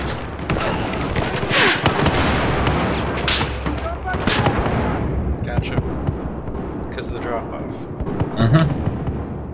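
Gunfire and explosions in Battlefield 4 on the Operation Metro map, with dense bursts of shots and booms, loud and close, under someone talking about shotgun slugs.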